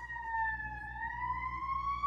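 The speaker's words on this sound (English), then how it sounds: "Sirens." Emergency vehicle siren wailing outside a window, a steady rising and falling tone heard from a distance, fairly faint, with no other sounds over it.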